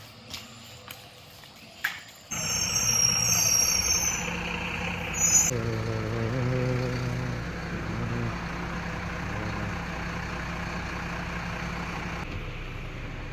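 A tour bus pulls up at a stop with a long, bright air-brake hiss, then its diesel engine keeps rumbling steadily nearby, with faint knocks before it arrives.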